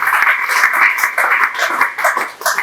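Church congregation applauding during a Sunday service, steady mid-loud clapping from many hands with a few sharper taps, continuous throughout.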